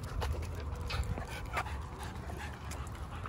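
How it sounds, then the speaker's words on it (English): Rottweiler dog at a dog park panting and whimpering close by, soft breathy pants with faint whines over steady outdoor background noise, no talk. "Ready to go play with the other dogs, Essie?"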